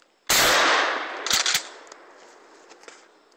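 A loud, close shotgun blast in a zombie video game rings out and decays over a few seconds, followed by a couple of smaller sharp reports.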